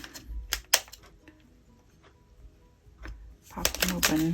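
Scissors snip the tops off small plastic bags in a few short, crisp cuts, close and fairly quiet, with rustling plastic between the snips.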